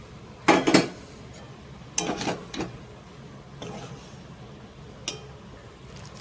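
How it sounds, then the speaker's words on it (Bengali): A spatula clatters and scrapes in a pan while soybean chunks are stir-fried with spices, giving a few loud metallic bursts separated by quieter gaps. "সোয়াবিনগুলোর সাথে মশলাটা ভালো করে ভেজে নেব"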